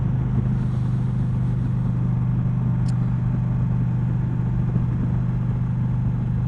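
An Indian Challenger motorcycle engine runs at a steady cruising speed of about 2,500 to 3,000 RPM while riding, a constant, loud low drone mixed with wind rush and no talk.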